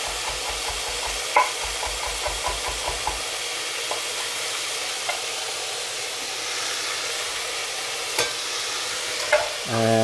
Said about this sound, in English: I'm just going to brown off the vegetables to get the most flavor